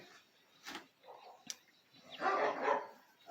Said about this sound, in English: That's just the dogs.